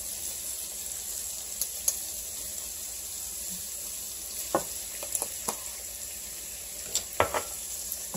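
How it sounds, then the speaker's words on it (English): Onions with a little salt cook in a pan, giving a steady soft sizzle with a few faint clinks and stirring sounds near the end, no voices. "I'm going to let that simmer for a little while."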